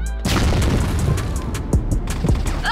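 Grenade in the shooter game CrossFire goes off with a loud, deep boom right at the start, followed by lingering rumble and scattered sharp gunfire cracks close by.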